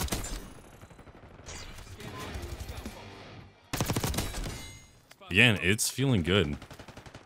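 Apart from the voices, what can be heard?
gunfire in video game Black Ops 6 beta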